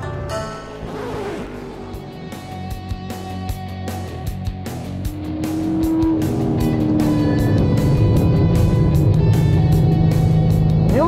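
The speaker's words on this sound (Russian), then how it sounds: "Рев этого двигателя порабощает, пронизывает вас до мозга костей" Deep engine roar from a 700 HP Chevrolet Corvette Z06, with music-like tonal harmonics throughout and the sound swelling louder from the midpoint into a sustained, heavy drone.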